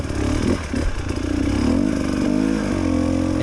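A TPI enduro motorcycle's two-stroke engine revs hard on a technical off-road hill, rising and falling in quick bursts as the rider wheelies over a gap, close and loud with no talking.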